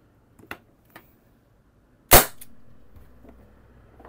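CO2-powered ASG Dan Wesson airsoft revolver: a few small mechanical clicks, then one sharp, loud, close shot with a short gassy tail.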